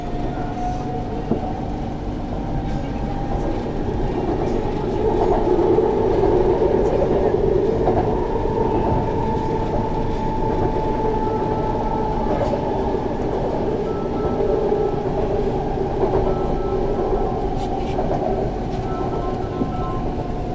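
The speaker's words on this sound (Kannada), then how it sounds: "ರೈಲು ಈಗ ಸೌತ್ ಎಂಡ್ ಸರ್ಕಲ್ಗೆ ತಲುಪಲಿದೆ." Bengaluru Namma Metro train running between stations, a steady, loud rumble of wheels and motor with a sustained tonal hum, continuous throughout with no clear pauses.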